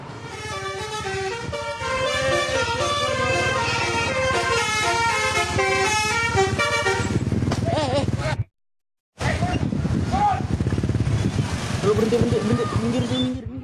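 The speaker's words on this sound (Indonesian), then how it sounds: "bus telolet bising saat siswa SD tengah mengerjakan ujian" A telolet bus horn near an elementary school in Depok blares a loud, close melodic tune of rapid repeating notes for several seconds; after a brief cut, traffic noise continues with voices talking.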